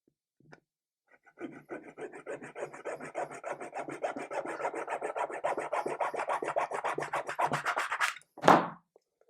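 A hobby saw works through a diorama piece by hand: a close, rapid run of rasping back-and-forth strokes that builds over several seconds and ends in one louder scrape, with no talking.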